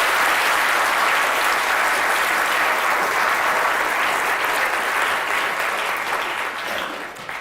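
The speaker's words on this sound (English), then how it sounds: "Give her a round of applause." An audience breaks into sustained applause, a dense wash of many hands clapping together. It stays loud throughout and fades slightly at the very end.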